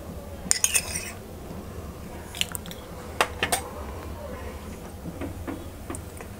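A spoon clinks and taps against a small metal tadka pan as ghee goes in, with a few sharp close clicks scattered over a quiet background and no speech.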